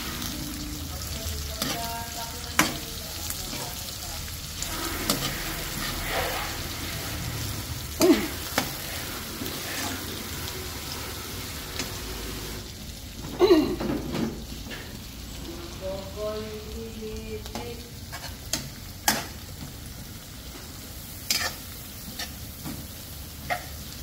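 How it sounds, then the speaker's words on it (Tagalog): Garlic and onions sauté in a pan alongside squid for adobong pusit, a steady close sizzle with intermittent clinks and scrapes of stirring running throughout. "Ayan, naluto na yung bawang, yun naman sibuyas at sinunod na."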